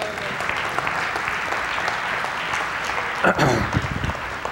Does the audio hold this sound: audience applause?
yes